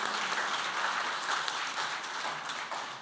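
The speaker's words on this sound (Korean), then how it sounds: "선교사님께 감사의 박수를 드리겠습니다" A church congregation breaks into steady applause for a visiting missionary, a dense wash of many hands clapping together, fairly close and continuous for a few seconds with no voices over it.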